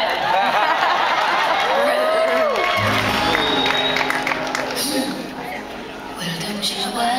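Concert audience in Houston applauding and cheering at a live pop show, a sustained broadband wash of clapping and crowd chatter that fades somewhat toward the end, with a voice speaking over it.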